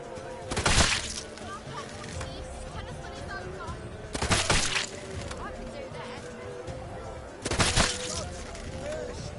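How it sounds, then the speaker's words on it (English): Crossbow shots fired by Geralt in The Witcher 3, three sharp bursts spaced several seconds apart, each standing out briefly above a busy, low ambient game soundscape. "Geralt, grab your crossbow and get to work."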